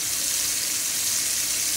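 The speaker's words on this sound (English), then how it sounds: "I put my patties in here, so you're gonna just brown them." Meat patties brown in a frying pan, giving off a loud, steady, close sizzle that hisses on evenly throughout, with no talking.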